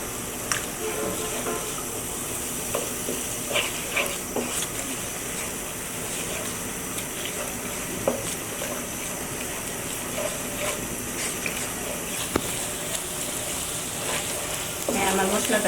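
Spice paste (masala) with ground nutmeg and mace stir-frying in oil in a pan after a splash of water, a soft continuous sizzle with occasional scraping and stirring clicks, fairly quiet and close.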